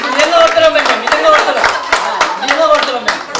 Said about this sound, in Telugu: వారికి మనం ఎంత గట్టిగా చప్పట్లు కొడితే